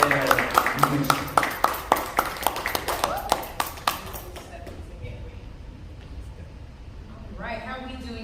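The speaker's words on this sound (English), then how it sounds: "give her a round of applause for Miss L.Michele" Small audience at a poetry reading event clapping for a reader: sharp, distinct claps for about four seconds, then fading to quiet room tone before a voice begins speaking.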